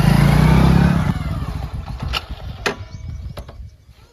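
A motorbike engine roars loud and close for about a second, then drops away into a rough, uneven rumble broken by several sharp metallic clicks and clatters.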